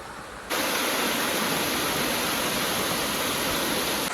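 A waterfall in Palghar, swollen by the first monsoon rain, bursts in as a loud, steady roar of falling water and holds at full strength without a break to the end.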